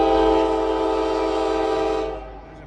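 Freight train horn blowing a long, loud sustained chord for a street crossing, steady for about two seconds before cutting off and leaving a low rumble.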